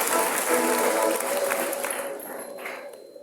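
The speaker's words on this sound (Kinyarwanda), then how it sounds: "Ni amashyi cyane." Wedding guests applaud during a church wedding ceremony, a loud, dense burst of clapping that gradually tapers off.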